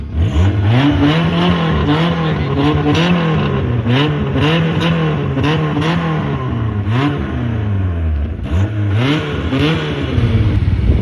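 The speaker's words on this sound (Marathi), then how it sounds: "सुपर कारचा आवाज आहे का नाही? सायलेन्सर सुटलाय." A car engine with a loose silencer revs hard and repeatedly, rising and falling in loud, rough bursts with a raspy, unmuffled exhaust roar throughout.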